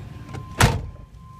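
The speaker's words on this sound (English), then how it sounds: "Here we go, double door." A big van's double door opening, one short solid thunk of the door mechanism, close and fairly loud, with quiet background before and after.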